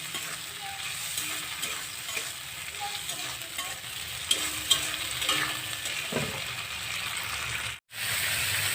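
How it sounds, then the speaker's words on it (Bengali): Prawns fry in a pan on a home kitchen stove, giving a loud, close, continuous sizzle that drops out for a moment near the end before resuming. "এখানে চিংড়ি মাছ দিয়ে আজকে লতি রান্না হবে, তার জন্য এই চিংড়ি মাছটা ভাজা করছি"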